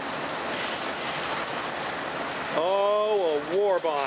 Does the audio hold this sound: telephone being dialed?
no